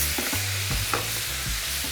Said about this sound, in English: we're just going to give it a really good stir.